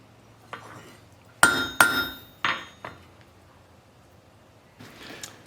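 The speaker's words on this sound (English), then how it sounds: "hold it in place and bend it down" Hammer blows ring on a steel tong jaw held over an anvil edge: a few sharp metallic strikes, irregularly spaced, with quieter taps before and after.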